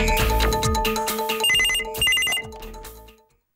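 A telephone rings in a Malayalam TV comedy scene, a loud electronic ring in repeated bursts over a music sting. It fades out toward the end, with no one speaking.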